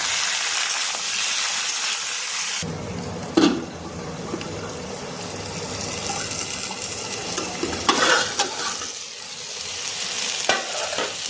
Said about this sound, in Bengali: ফুলকপি আলু ভাজার জন্য এখানে তেল নিয়েছি লোহার কড়াইয়ে, দিয়ে দিচ্ছি ফুলকপি আলু